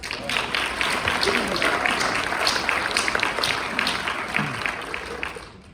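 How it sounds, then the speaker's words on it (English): A crowd at a chili charity event gives a round of applause, sustained clapping from many hands with distinct claps standing out, gradually tapering off toward the close. "I think they also need a round of applause"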